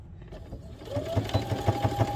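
A sewing machine back-stitches a soft padded figure skate guard, its needle thumping in a quick, steady close rhythm after a quieter start, with no talking.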